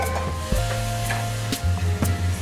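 Ingredients for papad methi shak get stirred together in a pan, a steady close sizzle with scraping spoon strokes and a few sharp knocks against the pan, no voices.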